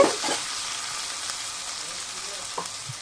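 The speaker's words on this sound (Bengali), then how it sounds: "তো সে তেলে দিয়ে দিলাম পাঁচফোড়ন, দিয়ে দিলাম পেঁয়াজ কুচি" Panch phoron, chopped onion and ginger frying in hot oil for a singi fish and potato curry, a steady close sizzle with a couple of brief stirring scrapes and no talk.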